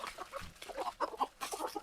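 Desi chickens cluck softly on a free-range farm, several short, faint, irregular clucks from nearby birds scattered over the clip.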